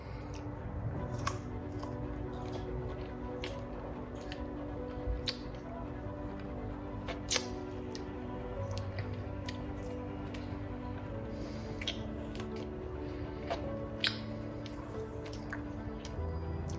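Crisp crunching and snapping bites recur irregularly, with wet squishing chews in between, close up and fairly distinct against a quiet background.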